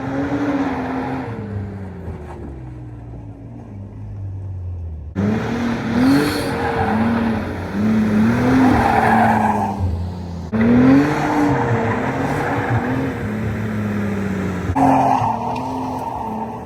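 Car drifting laps with repeated loud tire squeals over a revving, accelerating engine, the screeching rising and falling in waves across the run.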